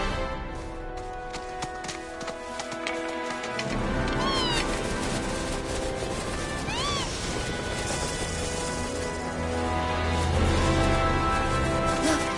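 A cat meows twice in the video game Final Fantasy VII Remake, short rising-falling cries over a steady bed of game music and ambience.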